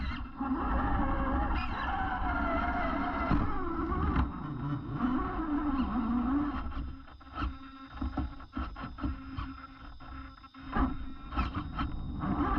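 A 1/10 scale hard-body RC car grinds up a rocky quarry hill, its electric motor whining and revving steadily, close and loud, with bursts of tire scrabble and clatter over stone.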